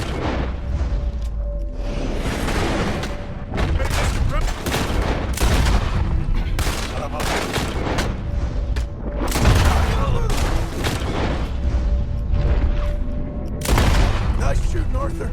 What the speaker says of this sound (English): Nice shooting, Arthur.